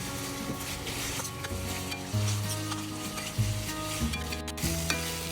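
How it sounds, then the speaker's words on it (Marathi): Chicken marinated in red chili paste fries with sautéed onions in a pan, a steady close sizzle with occasional stirring scrapes and no talking. "आता आपण कांद्याला छान परतवून घेतला आहे. यामध्ये आता आपण आपलं जे चिकन होतं ते ॲड करणार आहे"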